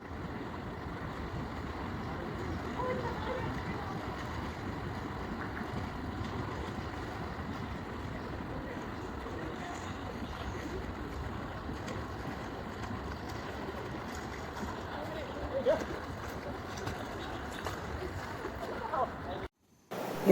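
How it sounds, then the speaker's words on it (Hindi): Strong sea waves at Krabi beach, Thailand, make a steady, dense roar of surf, wind and rushing water that holds at an even level throughout. "बिल्कुल बहुत तेज़ लहरें हैं और लोग बाग सारे निकल पड़े हैं अब इस समंदर में नहाने के लिए।"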